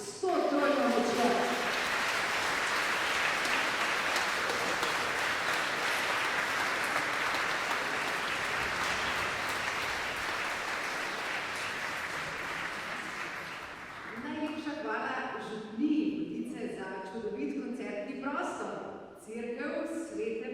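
Audience in a church clapping loudly after a brass band Christmas concert, a dense sustained wash of applause for about fourteen seconds that fades out, followed by someone talking into a microphone.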